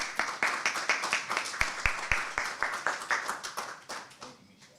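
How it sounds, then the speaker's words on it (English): Clapping from a community conversation audience, with sharp hand claps at a steady, fairly sparse rhythm from a small group that thins out and stops near the end. "Let's give him a round of applause."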